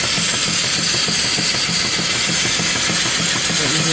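Antique steam engine with a 16-inch V-belt pulley, running at about 200 RPM at the flywheel, giving a steady loud mechanical chugging and hiss throughout, close and without voices.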